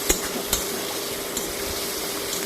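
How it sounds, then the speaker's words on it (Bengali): Cabbage and vegetables for an egg vegetable soup being stirred lightly in a pan, a steady frying hiss with a couple of brief scraping clicks near the start, close and alone. "একটু হালকা নেড়ে চেড়ে নিলাম"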